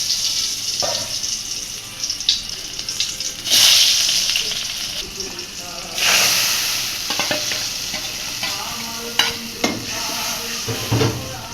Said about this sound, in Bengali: তেল হয়ে গেছে এখন পেঁয়াজ দিয়ে দিচ্ছে